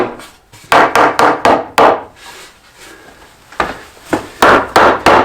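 A Husky soft mallet knocks against redwood boards of a garden bed, landing as a quick run of four sharp, close wooden thuds, a pause, then another burst of four blows.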